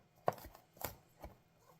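A knife chops garlic on a board in a home kitchen, three soft, separate thuds spaced about half a second apart, close and fairly quiet.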